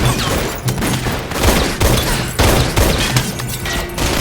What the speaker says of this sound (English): Her quick thinking saves Cameron's life, and she takes a shot at Rumlow before he runs out of the room.